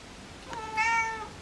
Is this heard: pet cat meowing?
yes